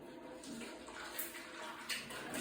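Liquid pours from a container during reagent preparation for an iodimetric redox titration in a chemistry practical, a soft, continuous watery splashing with a few louder surges.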